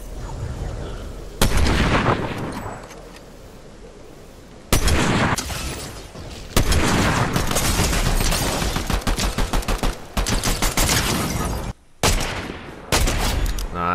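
Gunfire in a Fortnite Zero Build match, loud bursts of rapid automatic and single shots crackling back and forth with brief gaps, heavy and close throughout.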